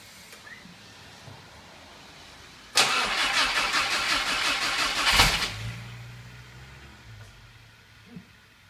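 An old car engine left unused for a couple of years cranks abruptly, churns for about two seconds, catches with a loud burst and then drops to a rough low idle before fading.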